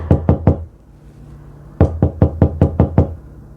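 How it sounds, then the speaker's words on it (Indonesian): Crisp knocking on a door: three quick raps, a brief pause, then a longer run of seven steady knocks, close and loud. "Jawabannya adalah suara orang mengetuk pintu."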